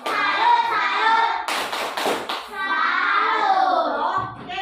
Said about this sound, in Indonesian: Ayo kita sama-sama memberikan tepuk salut untuk kita semua